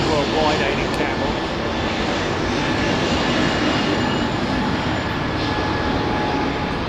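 Airbus A380 engines at Heathrow give a loud, steady broadband roar that holds for several seconds without a break.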